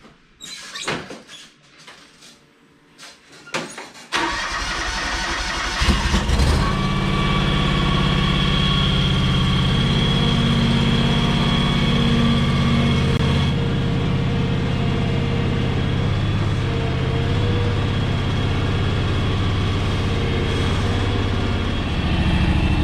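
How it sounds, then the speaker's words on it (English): A John Deere X729 mower tractor starts after a few clunks and settles into a loud, steady idle that runs rough and misses, its engine drone continuing close by without talk. "Hear that? How it's like missing when it idles?"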